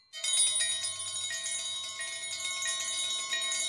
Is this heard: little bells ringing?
yes